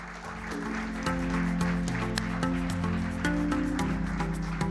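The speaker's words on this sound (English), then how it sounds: "A round of applause," An audience claps at the launch of a club program, a few seconds of scattered applause mixed with background music.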